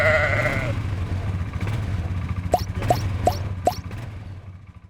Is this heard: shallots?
no